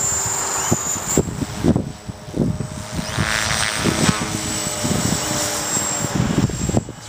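A small Mini Cylon model helicopter with a governor buzzes overhead with a steady rotor whine, its engine pitch holding fairly constant while faint insect chirps sound in the background.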